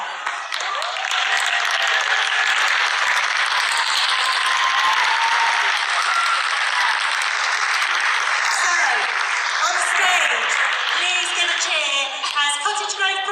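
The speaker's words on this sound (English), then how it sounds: "that is your moment to clap and cheer when your children's school is called" Large audience applauding and cheering at a Portsmouth school choir showcase as the curtains open, a dense, sustained roar of clapping and voices, loud and continuous throughout, with some tonal music or singing emerging near the end.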